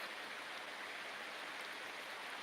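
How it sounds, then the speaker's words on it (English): Waterfall in a redwood forest pouring steadily, a dense, even broadband rush of falling water that holds constant with no voices. "at a gorgeous waterfall location"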